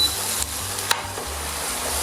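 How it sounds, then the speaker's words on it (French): White wine sizzles in a pan as it reduces to dryness while cooking veal kidneys with mustard, a steady crackling hiss broken by the occasional scrape of stirring, close and continuous with no talk. "quand ça commence à grésiller comme ça"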